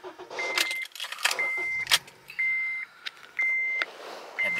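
A 2010 Acura TSX with a key in the ignition gives repeated electronic key-in-ignition chimes, steady beeps in a regular pattern, alongside clicks and rustling inside the car.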